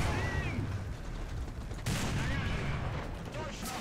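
Gunfire in a video game, heard as a loud burst of shots near the two-second mark over steady battle noise, with a few scattered reports before and after.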